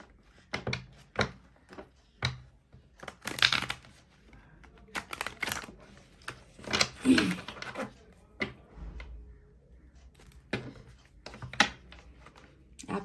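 Tarot cards are shuffled and drawn from a deck during a reading. Short, separate papery flicks and slaps come in an irregular rhythm, with bursts of rustling, close and fairly quiet.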